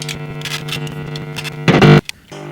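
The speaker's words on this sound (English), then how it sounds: "Let's switch it around and let's run our reverb into the overdrive" Electric guitar run through a Tone City compressor, then reverb, then an Ibanez TS Mini overdrive, playing a steady distorted riff with ringing sustain and a louder strummed burst near the end before cutting off.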